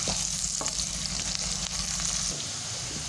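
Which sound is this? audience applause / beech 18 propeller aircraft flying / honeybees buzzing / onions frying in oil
onions frying in oil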